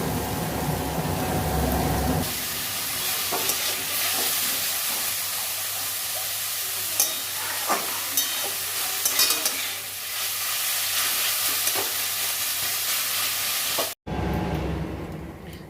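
Potato greens dry-fry in a pan with a steady, hissing sizzle, broken by occasional scrapes and clicks of stirring. A sharp cut near the end is followed by a brief resumption.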